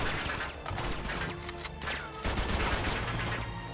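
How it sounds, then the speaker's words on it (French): Bursts of rapid gunfire and clattering weapon sounds from the Uncharted 2: Among Thieves video game, fairly quiet and continuous, with several sharp shot transients over a busy background mix. "On tire dans le tas, on tire dans le tas."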